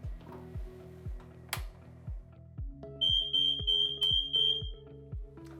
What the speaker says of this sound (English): that's the sound that you would hear in the unlikely event that there was a fire in the apartment